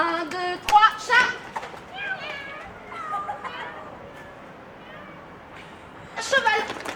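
Children in a French group game take turns imitating a cat, giving a few short high meows near the start and again at the end, mixed with excited chatter and movement.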